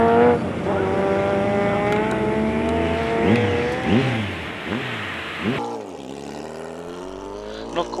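A racing motorbike screams past at speed, its high engine note rising then sweeping down in a Doppler drop, followed by quieter fading revs and further passing whines in the distance.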